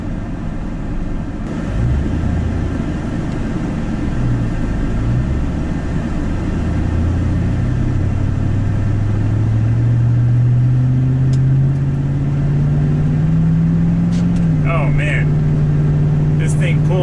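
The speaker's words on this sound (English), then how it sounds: "I'm quarter throttle and it's accelerating." A pickup truck towing an open trailer pulls away at quarter throttle, its steady engine drone rising gradually in pitch as it accelerates, with road and cabin rumble underneath.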